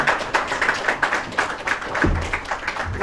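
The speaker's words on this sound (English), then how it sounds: "Please welcome him with a big round of applause." An audience at a meeting in Nairobi on election security applauds to welcome a speaker, giving a run of brisk, fairly close handclaps in an irregular rhythm that carries through the whole stretch, with a low thump near the end.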